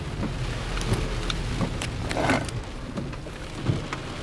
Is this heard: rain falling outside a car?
yes